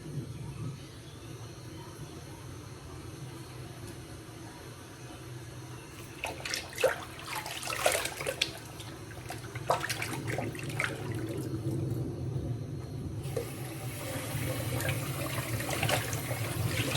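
Hot water runs steadily from a bathroom tap during a straight razor head shave, a soft rushing hiss that grows fuller and louder toward the end, with a few brief clatters and splashes in the middle.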